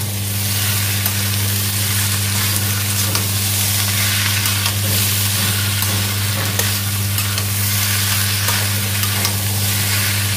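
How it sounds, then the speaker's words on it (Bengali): Onions and spiced jackfruit fry in a pan, chicken-style, with a loud continuous sizzle and the scrape of stirring running steadily throughout, close up with no talk. "এই যে ভাজা পেঁয়াজগুলো রেখেছি, এবার পেঁয়াজ দিয়ে এটাকে ভালো করে কষিয়ে নেব।"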